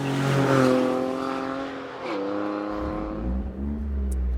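A Morgan Super 3 engine with a sports exhaust revs hard with a loud, raspy exhaust note, pitch climbing then dropping as it shifts, close and prominent.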